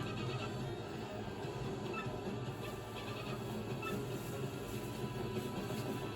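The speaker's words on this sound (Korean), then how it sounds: "여긴 기차네." A train in Paper Mario: The Thousand-Year Door rumbles steadily as a continuous, moderately loud ambient game sound, with faint high tones above it and no talking.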